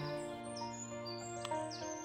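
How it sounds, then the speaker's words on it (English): Sparrows chirping in the video game Equilinox, a field of bright high tweets over a steady musical drone, lasting about two seconds with no talking. "Around a whole bunch of sparrows now in the field."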